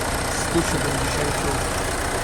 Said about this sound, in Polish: Dwulitrowa jednostka diesla o niezawodnej konstrukcji mocy